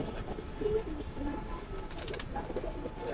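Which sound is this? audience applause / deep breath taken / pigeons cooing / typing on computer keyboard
pigeons cooing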